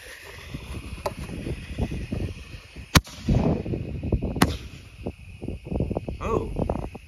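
A USA Camo Ammo canister shell firework launches and bursts outdoors, with sharp cracks near three and four and a half seconds over rustling background noise and faint voices.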